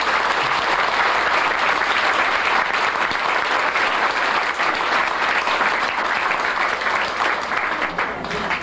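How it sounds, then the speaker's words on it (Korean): A concert hall audience at a Buddhist temple youth association's regular concert, featuring a children's choir, breaks into loud, sustained applause, a thick wall of clapping that runs unbroken from start to finish. "격려의 박수 부탁드립니다"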